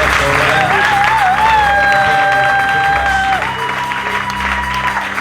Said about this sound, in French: Est-ce qu'on peut acclamer le pasteur